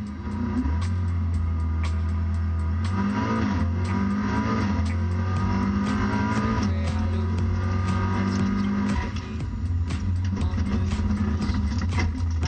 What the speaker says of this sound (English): Oh, now out they go, and we're racing once more in the South Nile Euro Cup.